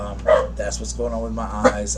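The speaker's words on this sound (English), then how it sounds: "That's my dog's barking." A dog barks a few short yips in the background while a person talks close by over a steady low hum.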